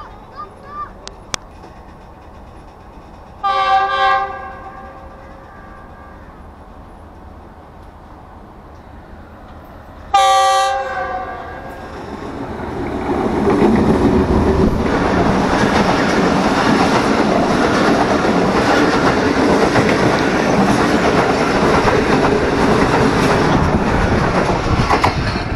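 An oncoming train passes on a railway line in Pakistan between Lahore and Rawalpindi, heard from a moving train: two horn blasts, then a loud, sustained rumble and clatter of passing carriages close by, with talk early on.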